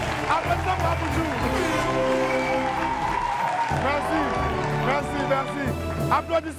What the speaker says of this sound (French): Applaudissez pour Aboudjou